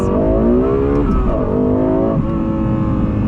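Lexus LFA supercar engine revving hard at half throttle on a drive, a loud close screaming wail that climbs quickly through gear changes, dipping and rising again, with no talk over it.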